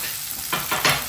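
Masala of turmeric, onion-garlic spice mix and homemade spice powder being stirred and fried in oil for a pavta and bombil rassa, with a low steady sizzle and two brief scraping stir strokes near the end.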